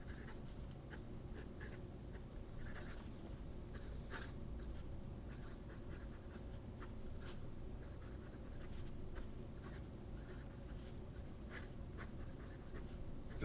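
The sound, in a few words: Yowo fountain pen with medium nib writing on paper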